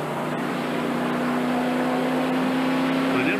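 A 1992 Hooters 500 race car with an engine problem rolls down pit road, its engine holding a steady, loud droning hum at about 4,000 RPM with no pause throughout.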